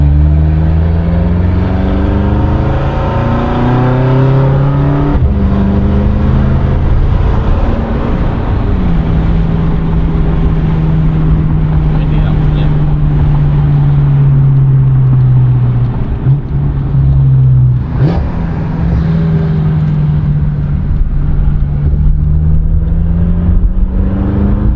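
A BMW M5 with a built engine on a test drive, its engine note droning loud and close from inside the car, with pitch rising and falling steadily through the gears.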